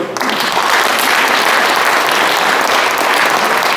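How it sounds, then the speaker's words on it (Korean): Steady, dense applause from a large audience at a forum event, loud and sustained throughout with no break. "한 번 더 큰 박수로 해주시죠"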